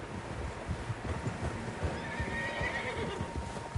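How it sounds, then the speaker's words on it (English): Several horses whinny and neigh in the Red Dead Redemption 2 video game, with hooves clip-clopping in a steady rhythm beneath, fairly faint and without talk. "Horses, quite a few of them."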